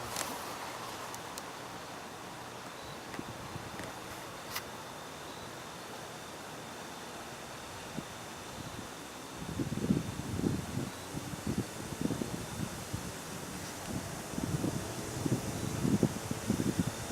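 Steady breezy outdoor wind noise, a constant broadband wash that swells into louder gusty buffeting in the second half, with no voices.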